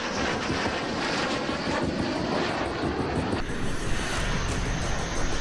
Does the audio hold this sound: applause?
no